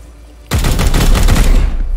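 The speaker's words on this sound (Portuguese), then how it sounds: "Vou dar tiro nele, vai." Gunfire in Warhammer 40k: Chaos Gate - Daemonhunters erupts abruptly as a loud, dense burst of rapid shots, sustained for about a second and a half before cutting off.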